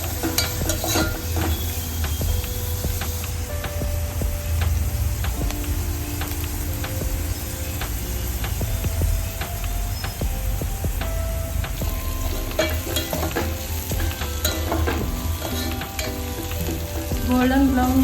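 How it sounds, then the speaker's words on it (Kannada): Ridge gourd sizzles steadily in hot oil in a pan as it fries toward golden brown for a North Karnataka-style dish, with a constant close crackle and occasional soft clicks of stirring throughout. "ಗೋಲ್ಡನ್ ಬ್ರೌನ್ ಕಲರ್ ಅಂತ 1 ನಿಮಿಷ ಫ್ರೈ ಮಾಡ್ಕೊಳ್ಬೇಕು."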